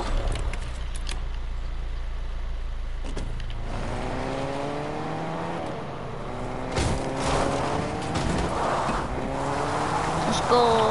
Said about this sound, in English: We could take a car.